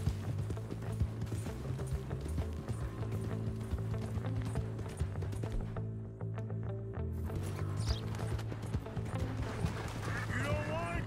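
Rhythmic hoofbeats of a horse in Red Dead Redemption 2 pound at a steady gallop over a continuous tonal backdrop, with a mechanical whoosh and clatter partway through.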